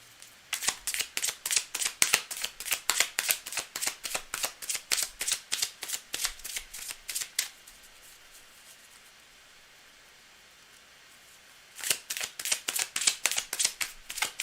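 A deck of tarot-style reading cards is riffle-shuffled in rapid, crisp bursts of flicking card edges. A long pause follows, then the shuffling resumes, close and clear with no talking.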